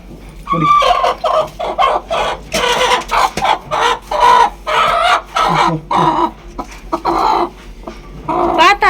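Chickens and a rooster cluck loudly in a home yard, with bursts of clucking coming in a steady rhythm of short calls, close by, and no talk over them.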